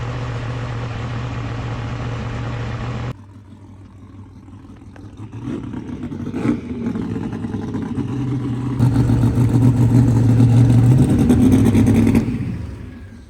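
A race car engine idles high at a drag strip at night, a loud steady drone that drops off, then gradually builds into a louder revving roar before fading at the end.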